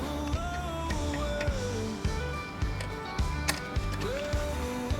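Small screws are set into the ignition coil of a 70cc Perla Barb chainsaw, making close metallic clicks and ratchet-like ticks at a steady repeating rhythm over a constant background hum.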